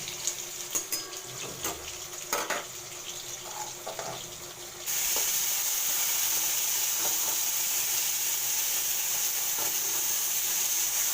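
Papad frying in hot oil for a papad kalia, a steady close sizzle that jumps louder and denser midway and then holds as an even hiss, with a few scattered clicks early on.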